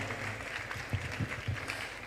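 An audience at a youth entrepreneurship and leadership conference claps in a dense, continuous patter with a few sharper accents, heard up close.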